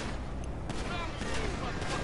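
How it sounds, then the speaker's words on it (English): Distant gunfire crackles through a noisy GTA 5 city scene in rapid, scattered bursts and pops that blend into a dense wash of background sound, with no one speaking. "I like how there are like so many gunshots in the background"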